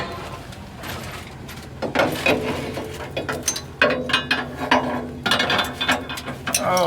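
A washer and nut going onto a bolt while working up inside corn harvesting equipment, with close metallic ratcheting, clinks and irregular clattering handling noises in bursts.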